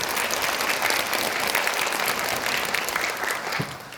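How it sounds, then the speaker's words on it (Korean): A lecture-hall audience at a Buddhist memorial academic conference breaks into steady, dense applause that holds for the full stretch and fades slightly near the end, with no voices over it. "박수 부탁드리겠습니다"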